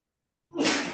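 A single short, breathy burst starts halfway through after silence and trails off, sounding like a close sneeze.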